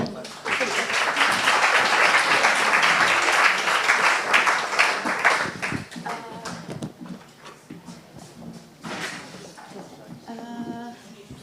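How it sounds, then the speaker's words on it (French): Audience applause at a French cultural conference session, a broad burst of clapping that swells early, then thins out and fades as sparse claps and faint voices remain. "vous pouvez l'applaudir"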